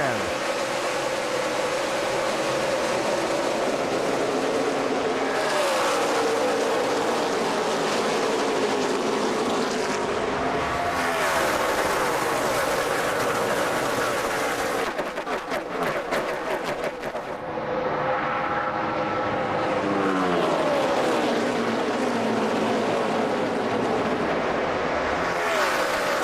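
NASCAR Sprint Cup stock cars roar around Chicagoland Speedway in a 400-mile race at the green flag, a loud continuous wall of engine noise with passing cars sweeping by.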